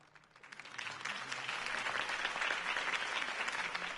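Crowd applause at a campaign speech in Batman: The Telltale Series, rising from quiet to a full, steady wash of clapping that continues to the end.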